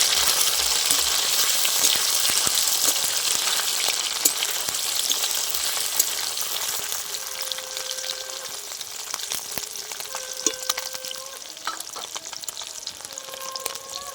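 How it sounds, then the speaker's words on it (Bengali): Loud, continuous sizzling of egg paneer pieces frying in hot oil in a wok fills the clip, crackling steadily up close with a few faint clinks, no voices. "এবার পনিরগুলো কড়ার মধ্যে আমি দিয়ে দিচ্ছি। খুব ভালো করে আমি ভেজে নেব।"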